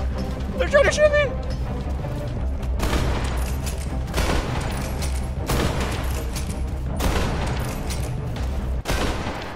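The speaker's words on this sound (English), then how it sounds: "They're trying to shoot me." Enemy gunfire in a video game crackles in repeated loud bursts of rapid shots and booms, with a player's voice speaking over the start of the barrage.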